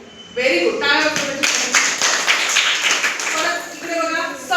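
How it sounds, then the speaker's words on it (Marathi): In a Zilla Parishad primary school classroom, schoolchildren break into a short burst of lively clapping, with children's and a teacher's voices talking around it. "टाळ्या वाजवा"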